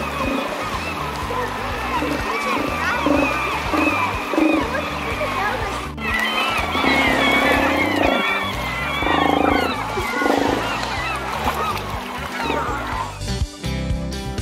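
Steller sea lions roar at a salmon hatchery at Solomon Gulch, Alaska: a dense, continuous chorus of deep, loud calls close by, layered with many higher wavering cries.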